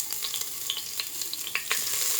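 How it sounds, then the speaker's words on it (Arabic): Garlic sautés in a spoonful of corn oil in a pot, giving a light, steady sizzle broken by small crackles and pops, close and alone with no voices. "هشوحه كده تشويحه بسيطه"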